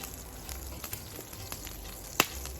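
Beef summer sausages sizzling over an overly hot campfire outdoors, a quiet, steady frying hiss with small pops and crackles scattered throughout and one sharper snap near the end.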